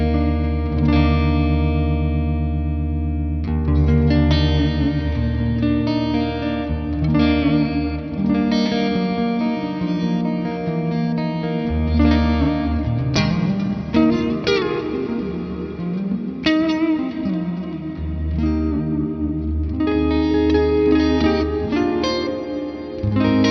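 An electric guitar runs through an ALABS pedal set to its church reverb mode, with chords and notes swelling into long, ambient tails that wash together, played alone without talk.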